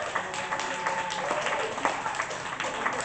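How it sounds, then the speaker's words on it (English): Audience applause for a poet at a poetry slam, a steady wash of many hands clapping that holds at a moderate level through the whole three seconds, with no voice over it. "Applaud poet."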